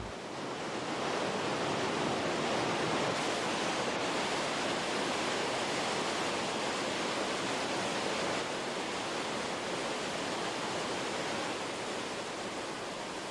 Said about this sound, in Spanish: el río da lugar a cataratas consideradas como las más poderosas de Europa y las más espectaculares de los Alpes, las cataratas de Krim